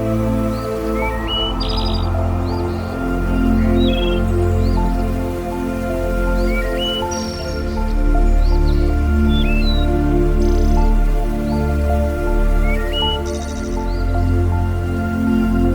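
Small birds chirp and call in short, repeated bursts across an African savanna, a steady chorus of bright tweets layered over a loud, continuous background hum.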